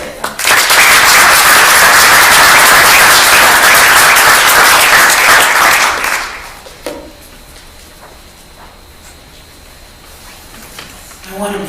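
A conference audience at a Chicago Public Library session breaks into loud, sustained applause to welcome a speaker, lasting about six seconds before dying away into a quiet room with faint talk.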